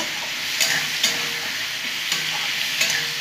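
Cumin, coriander, ginger, green chilies and dry red chilies fry in hot oil for a kohlrabi dalna, a steady close sizzle broken by a few sharp scrapes of stirring, with no talking.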